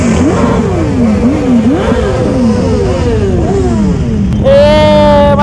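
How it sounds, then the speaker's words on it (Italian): Loud KTM motorcycle engine revving repeatedly at a Christmas motorcycle gathering, rising and falling throttle sweeps close by over a rumbling background of other engines, then a sharp high-pitched rev near the end. "Io mi spacco le orecchie a sto KTM"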